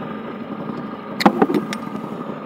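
Engine of a Honda Vario 150 scooter idling at about 1400 RPM, a steady low hum with a few brief clicks and knocks partway through, close by and moderately loud, no talk.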